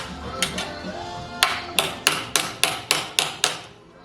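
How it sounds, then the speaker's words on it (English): A series of sharp metallic hammer strikes from a body hammer on the sheet metal of a 1955 Chevy Handyman Wagon drip rail, a few scattered taps then a steady run of about eight ringing blows, close and loud. "take my body hammer, flat piece on it"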